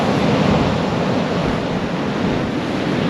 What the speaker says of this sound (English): I think it's just a bit windy